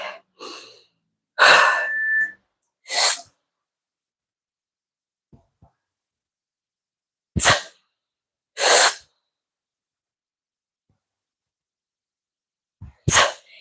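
Sharp, forceful exhalations during a Pilates strength workout, delivered in short isolated bursts spaced a few seconds apart, close and loud against silence.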